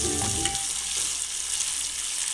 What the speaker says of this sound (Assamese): এনেদৰে লৰাই লৰাই অলপ সময় ভাজিব লাগিব।